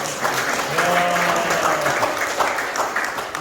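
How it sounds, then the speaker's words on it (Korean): Audience applause at a company branch office relocation ceremony welcomes a new staff member, a close, steady round of clapping from a modest group with faint murmurs underneath. "우리 박수 한번 주세요."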